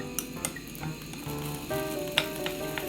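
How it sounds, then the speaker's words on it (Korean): Bracken fern tossed in a hot pan over medium heat for a seasoned namul side dish, giving a soft sizzle and frying hiss with light stirring clicks and scrapes, fairly close and steady throughout with no talking. "그래서 이제 팬에 이제 볶아보겠습니다"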